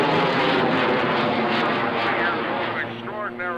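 Jet-powered wingwalking airplane fitted with a Learjet engine at an airshow, a loud broadband engine roar passing overhead that gently recedes, with an announcer talking over it.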